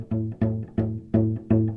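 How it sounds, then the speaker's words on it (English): A bowed or plucked string instrument's G-string notes sound with a plucking-like attack because the fingers do not fully press the string: five short separate notes in an even rhythm, close and moderately loud, with no talk. "at the beginning you might have more plucking sound like this"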